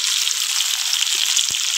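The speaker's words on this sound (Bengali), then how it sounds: "আমি এবার ভেজে রাখা আলুগুলো দিয়ে দেবো মাংসের মধ্যে।" Fried potatoes go into a country chicken curry cooking over a clay stove, producing a loud, dense, steady sizzle of hot oil with a couple of brief soft pops and no voices.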